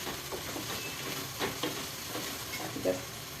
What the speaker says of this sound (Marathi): कांदा मोठा गॅसवर असं भाजून घ्यायचा.